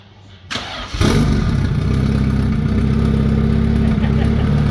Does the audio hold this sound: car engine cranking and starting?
yes